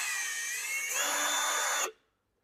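A power drill backs a drywall screw out of a wall, whining high and steady for nearly two seconds with a pitch shift midway, then stopping abruptly into near silence.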